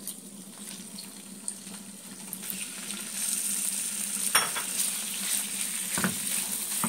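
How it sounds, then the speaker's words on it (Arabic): Chicken pieces frying in a pan of oil with two knobs of butter, a steady soft sizzle running throughout with a few brief louder crackles and clatters near the end, no talking. "دلوقتي حاطه بقى الزيت وحاطه قطعتين زبده كده، وهنزل بقى بالفراخ بتاعتنا"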